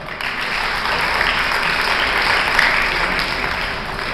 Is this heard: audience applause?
yes